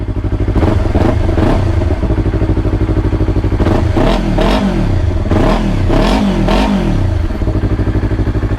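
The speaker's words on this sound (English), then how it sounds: "But let's give a little rev." A 2020 Yamaha YZF-R3 motorcycle with modifications and a non-stock exhaust idles close to the mic, then gets several sharp throttle blips that rise and fall in quick succession, loud and alone.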